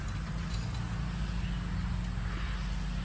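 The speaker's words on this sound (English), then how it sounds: "There's 3 tractors going down the road." Three tractors roll down a nearby road, a steady loud low engine rumble with broad noisy wash filling the whole stretch, no pauses and no voices.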